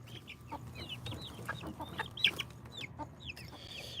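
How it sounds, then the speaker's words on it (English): Chickens clucking on a farm in the morning, a hen's short calls repeating among other fowl, with chirping birds and steady low background noise. "You're looking a lot more like a hen than a rooster these days."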